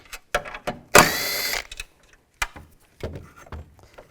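A ratchet wrench with a 10mm socket removing bracket bolts on a Buick Enclave gives a few sharp close clicks and a short rattling burst of mechanical ratcheting, with no talk.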